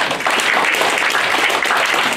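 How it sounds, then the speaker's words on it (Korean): Audience at a Korean literary symposium applauds a presenter, a dense, continuous wash of clapping at steady loudness for the whole moment. "예, 박수 한 번."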